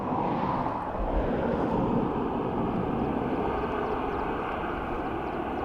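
An ATR turboprop rolls along an airport runway with a steady, broad engine roar and whine held at a moderate distance for several seconds, no voices.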